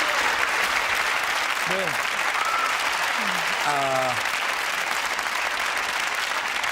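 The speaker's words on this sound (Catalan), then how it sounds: "un aplaudiment" A studio audience applauds during a Catalan interview, with a steady wash of clapping throughout while a voice speaks over it, including a short sung or drawn-out phrase.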